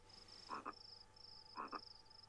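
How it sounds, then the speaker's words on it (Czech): Frog croaking in a video game: two paired croak bursts about a second apart, each a quick double call, over a steady electronic tone and background hum, with no talking. "Tak je tady žába."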